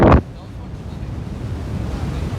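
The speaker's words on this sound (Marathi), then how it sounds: "खूप वारं सुटले." Strong wind sweeping across an open plateau in dense forest, heard as a steady, loud, rumbling roar with buffeting against the microphone, preceded by a brief sharp burst at the start.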